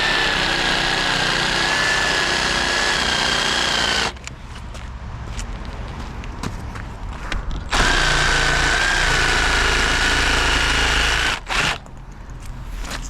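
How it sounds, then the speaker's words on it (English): Jigsaw cutting a timber roof rafter freehand, a steady high-pitched buzzing whine running for about four seconds, dropping away, then resuming, with brief stops and restarts toward the end. "I'll just demonstrate using a jigsaw freehand"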